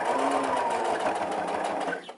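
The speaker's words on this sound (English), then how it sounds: "I'm going to put it down, and then I'm going to stitch, reverse, and stitch it down" A sewing machine stitches a hair bundle onto a topper in one continuous, close, steady mechanical whir lasting about two seconds before tapering off.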